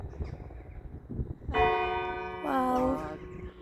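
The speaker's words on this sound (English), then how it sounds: "that's the old part, still chimes. Yep, 2 o'clock." Over 1,000 years old, the bell of Dunfermline Abbey strikes twice for two o'clock, each ringing chime clear and resonant with a lingering hum, following muffled outdoor background noise.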